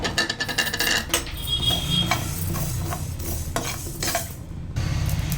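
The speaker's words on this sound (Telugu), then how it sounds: "మెంతులు, ఆవాలు ఫ్రెండ్స్, ఇవి మంచిగా వేయించుకోవాలి దూరగా." Fenugreek and mustard seeds sizzle and crackle in a hot pan while a utensil repeatedly scrapes and stirs them, close and busy.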